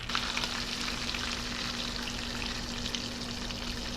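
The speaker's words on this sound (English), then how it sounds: "I'm gonna get these vegetables cooked just a little bit more. I'm gonna flip this fish" Fish and vegetables, including peppers and onions, fry in a pan with a dense, continuous sizzle that stays even and close throughout, with no talking.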